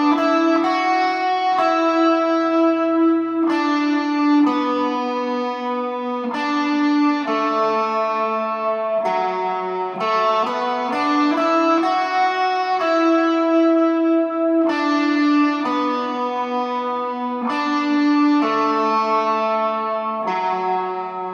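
Electric guitar riff played with drive for a worship lead part, with sustained overdriven notes changing in a steady repeating pattern, loud and close with no talking.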